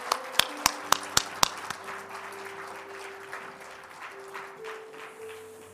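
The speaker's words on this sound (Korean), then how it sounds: "네, 큰 박수 해주십시오." A church congregation breaks into applause after appointment certificates are handed out at a Korean service: several sharp, loud claps open it, then a softer, sustained wash of clapping fills the room while organ chords hold underneath.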